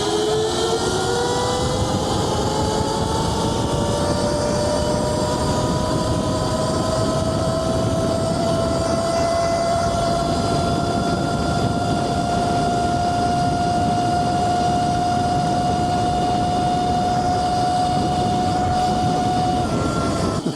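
A Qronge X1 Spark electric bike with a Fardriver controller runs at speed. A high electric-motor whine climbs and then holds steady over loud, constant wind rush for about twenty seconds, with no voices.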